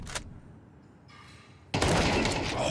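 Counter-Strike gunfire on the Nuke map in a professional G2 versus Eternal Fire match: a faint early crack, then a loud burst at the end with sustained fire.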